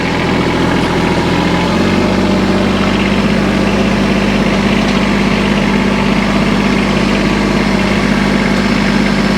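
Tractor engine running steadily while driving across a steep hay field, a loud, close diesel drone with a constant low hum and vibration that shifts pitch slightly about two seconds in, with no talking.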